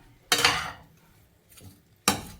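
Metal lid clanking onto a cooking pot of star fruit gravy, two sharp bright clatters with a softer knock between them, close and distinct in a quiet kitchen.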